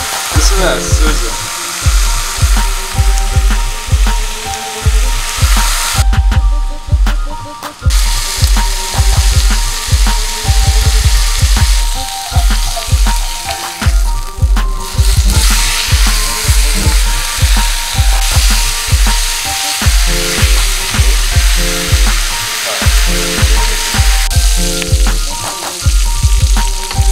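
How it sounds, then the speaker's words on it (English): Bacon sizzles loudly and continuously in a hot pan, with crackling pops and rhythmic scraping or stirring throughout. "Listen to that sizzle."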